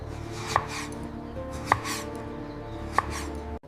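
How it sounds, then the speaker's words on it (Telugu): Three sharp, evenly spaced knife chops on a cutting board as onions are cut into small pieces for an Andhra-style fish curry, close and distinct over a steady background hum. "ఇప్పుడు ఉల్లిపాయలు చిన్న ముక్కలుగా కట్ చేసుకోవాలి"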